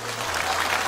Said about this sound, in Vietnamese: Vỗ tay cho mấy đứa tu sai.